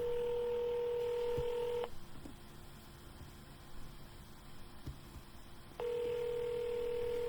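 Touch-tone telephone dialing for a real estate cold call: steady DTMF tones and a dial tone at the start and end, with a quieter stretch of line hiss between them and no talking.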